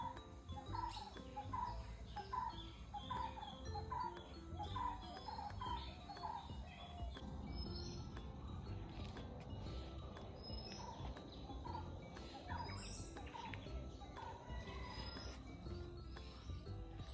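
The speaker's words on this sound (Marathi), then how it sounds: "जिथे पक्ष्यांचे वेगवेगळे आवाज आमच्या कानी पडत होते" Various birds chirp and call on a quiet morning in the Konkan countryside, with repeated short tweets near the start and scattered calls later over a faint, steady insect-like hum and soft ambient noise.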